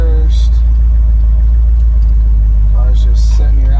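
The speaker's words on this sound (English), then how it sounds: "car's just sitting here idling great." A 1968 Shelby GT500 KR convertible with a factory four-speed idling steadily, a loud, constant low rumble filling the whole stretch, with someone talking briefly over it.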